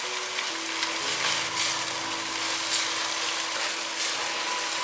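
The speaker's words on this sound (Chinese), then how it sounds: "把茄子放进来， 快速拌炒一下" Eggplant stir-fried in a hot pan of bubbling oil, a steady dense sizzle running the whole time with brief louder hisses as the pieces are tossed.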